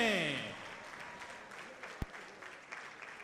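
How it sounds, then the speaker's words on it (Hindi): Loud audience applause at a film trailer launch, a crowd clapping steadily after a swelling musical sting fades at the start, with a sharp thump midway and scattered claps continuing to the end. "आइए प्लीज, कम ऑन, जोरदार तालियां बजनी चाहिए।"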